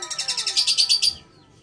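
African lovebird chirps in a rapid, loud, close series of about a dozen sharp high notes, then stops abruptly, leaving near silence.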